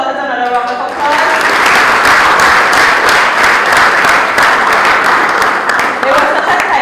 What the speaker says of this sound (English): Let's give Mr. Walters another round of applause